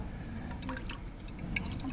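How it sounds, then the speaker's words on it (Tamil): Juice made from pounded gooseberry, blimbi and ginger is strained through a sieve, giving a steady close trickle with scattered drips and splashes of liquid. "இது எல்லாத்தையும் வந்து இப்போ வடிகட்டுறோம்"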